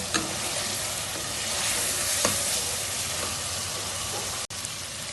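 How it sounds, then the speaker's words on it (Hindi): Chicken frying with spices in a pot gives a loud, continuous sizzle close up, with occasional faint stirring scrapes and a brief break near the end. "अभी इसको 2 से 3 मिनट और भूनेंगे"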